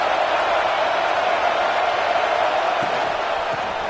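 A stadium crowd in the College Football 26 video game roars with steady, loud, dense cheering that holds unbroken throughout.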